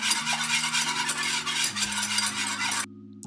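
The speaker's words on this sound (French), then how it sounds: "je continue de mélanger à feu moyen pour éviter les grumeaux" Vanilla custard cream stirred continuously over medium heat in a pan, a steady close whisking and scraping hiss under soft background music, stopping abruptly near the end.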